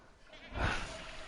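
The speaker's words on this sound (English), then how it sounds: "And then you need to talk to your goat." A single goat bleat from a farm-life video game, rising to a loud swell midway and trailing off, heard alone with no talk.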